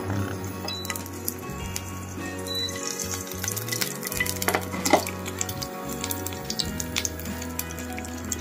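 Curry leaves and green chili crackle and sizzle in a little hot oil in a pan, a steady frying hiss with occasional sharp pops and light utensil clinks, with no talking.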